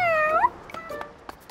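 A cartoon cat gives one clear, rising meow up front, then faint soft sounds and small clicks trail off in the background.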